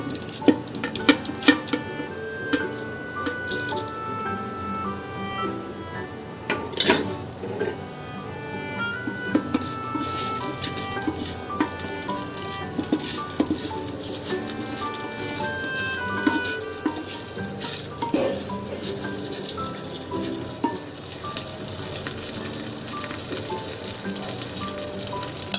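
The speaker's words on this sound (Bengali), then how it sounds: "গোটা মশলাগুলো এবার তেলের মধ্যে দিয়ে দেব, হাঁড়ির মধ্যে যে তেল দিয়েছি ওর মধ্যে দিয়ে দেব।" Whole spices fry in mustard oil inside a clay handi for a traditional biryani, giving a steady close sizzle with occasional clinks of a spoon against the pot and no talk.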